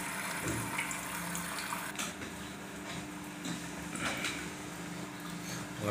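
An IFB Senorita Aqua SX front-loading washing machine draws in water during a test cycle, a steady rushing hiss with faint clicks and knocks from the machine.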